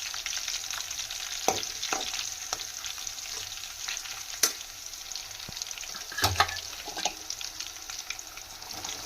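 Tempering seeds sizzle and crackle steadily in hot oil, with a few sharp pops and clinks of a utensil scattered through.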